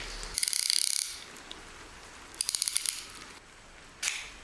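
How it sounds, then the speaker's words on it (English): Piston ring compressor on a marine diesel engine piston during a test fit, giving two quick bursts of rapid metallic ratchet clicks, then a lone clunk, all close with a quiet pause between. "doing a test fit of a piston to try out his new piston ring compressor"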